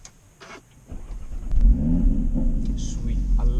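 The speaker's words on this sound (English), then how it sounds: "I love the start on these cars." An Audi RS3 8V with Stage 2 upgrades cranks and fires up, a quiet click and whirr followed by a loud, deep rumbling idle that holds steady, close by.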